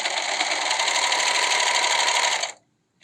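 A serger sewing machine runs over fabric for a face mask, a close, steady high-speed whir with a fast buzzing pulse that stops abruptly after about two and a half seconds.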